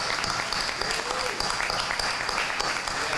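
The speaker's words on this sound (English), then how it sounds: "Let's give Martin McDonald a big round of applause." A town hall audience applauds steadily and loudly throughout, a dense wash of clapping with faint voices mixed in.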